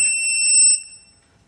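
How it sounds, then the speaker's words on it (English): A motorcycle's blind side detector gives one short electronic beep with a bright, pure tone, loud and close, which then rings out and fades with nothing else heard. "my blind side detector is just about to beep"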